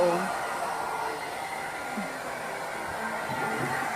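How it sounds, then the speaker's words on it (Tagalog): A blower used to dry a dog after its bath whooshes steadily and loudly throughout, with faint voices and brief sounds in the background. "Natakot siya, hindi niya alam yung blower."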